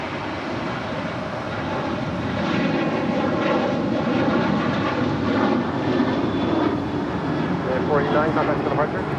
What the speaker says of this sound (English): Next departure here on the south side, heading to Denver, United Airlines, flight 489